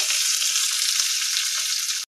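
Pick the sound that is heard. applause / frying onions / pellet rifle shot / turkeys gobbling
frying onions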